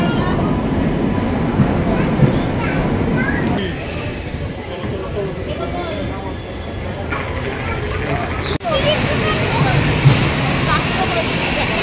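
The Darjeeling Mail passenger train rumbles along with a loud, continuous low roar and rattle from inside or beside the carriages, a sharp clank late on, and background chatter mixed in.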